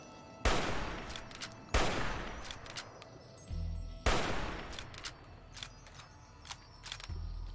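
Rifle shots fired while sniping in the video game Fallout: New Vegas: three loud, sharp reports with ringing tails, spaced a couple of seconds apart, followed by softer game effects and clicks.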